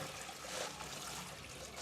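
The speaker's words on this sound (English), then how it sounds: "Give it a last rinse." Water sloshes and trickles over cockles being given a final rinse in a basin, a soft continuous splashing close by with a slightly louder splash at the end, no talking.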